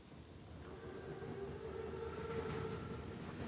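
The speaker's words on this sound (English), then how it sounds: "Train's right on time. Biggest train I've ever seen." An armored train rumbles past in a World War II shooter game, a steady low mechanical drone that swells slightly as it nears, with no talking over it.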